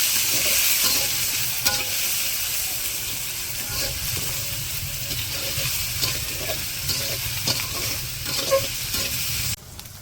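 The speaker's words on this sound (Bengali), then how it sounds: "পিসগুলো হালকা ভাজে নেব।" Pieces of buffalo meat fry gently with cinnamon and cardamom, a loud continuous sizzle with frequent spatula scrapes and knocks against the pot, close and steady throughout.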